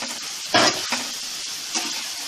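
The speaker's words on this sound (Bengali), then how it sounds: "এবারে যে আলুটা রেখেছিলাম আলুটা দিয়ে কষাতে হবে" Potatoes sautéed in hot oil for a Bengali tomato-potato tengra fish curry: a close, constant sizzle with sharper bursts as the pan is stirred, and no speech.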